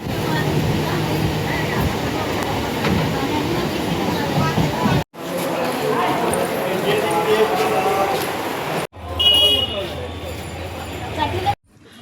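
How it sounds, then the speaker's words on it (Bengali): A train arrives at a railway platform with a rumbling, rolling roar that comes and goes across several cuts, while people talk nearby. "এবার আমার বাড়ি যাওয়ার ট্রেন আসবে।"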